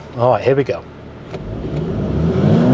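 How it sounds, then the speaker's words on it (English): A VW T-Roc R set in launch control mode with race mode and the gearbox in S starts to accelerate. Its engine note climbs steadily under a short spoken line, and the rising roar fills the rest of the clip. "to put this car in launch control, we've got to have it in race mode, traction control half off, and the gearbox in S."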